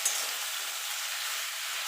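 A fish head fries in a pan for a Bengali chhechra with Malabar spinach, giving a soft, even sizzle that stays quiet and continuous throughout.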